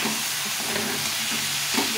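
Cauliflower sautéing with spices in a hot pan, a steady loud sizzle and hiss with faint scraping stirs, close up and without talk.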